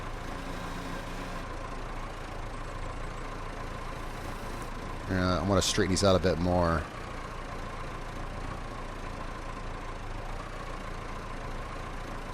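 A tractor fitted with a loader idles in Farming Simulator 25, a steady low engine drone throughout with a brief louder tonal burst midway, under someone speaking.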